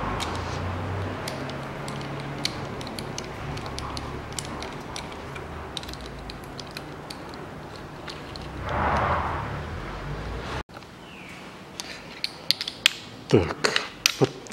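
Ratchet clicks while engine cover bolts are snugged down evenly by hand on a 2003 Toyota Caldina during engine reassembly, a steady mechanical ticking that breaks into a few sharper, separate clicks near the end.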